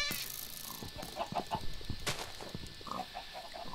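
Minecraft chickens clucking in a Block Hunt game, several short clucks scattered across the moment with a louder burst midway, over a faint steady background hum.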